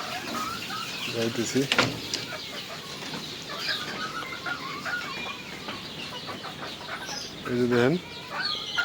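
Several chickens cluck and squawk nearby while being given grain feed in a farmyard. Short, bursty calls come in clusters, with louder bursts near the start and end. Someone speaks briefly over them.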